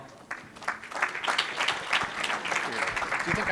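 Applause from a conference audience welcoming a legal panel on crowdfunding, moderately loud clapping with a few sharper claps, mixed with some murmuring voices.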